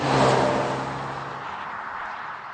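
A Ford Focus ST engine revs up briefly, loud at first, then fades into a smoother, fainter whir as it settles.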